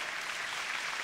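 Audience applause at a concert performance: a steady, faint wash of clapping hands from a distant crowd, continuous and even throughout, with no voices.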